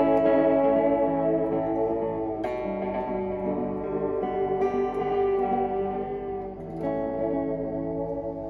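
Fender Reflecting Pool pedal on its interlock setting, played through a PRS SE Parlor guitar: sustained, ringing chords wash together with shimmering echo and chorus-like modulation, fresh strums entering every few seconds, steady and alone.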